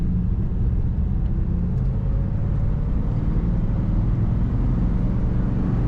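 A 1953 Ford Customline sedan with a three-speed column shift drives along with a steady, low engine rumble and road noise heard from inside, constant and unbroken.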